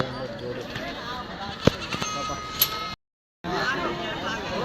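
Goats bleat amid a busy sheep and goat market crowd at the Kadiri market yard, with people talking and a noisy babble throughout; a short silent gap breaks the scene near the end.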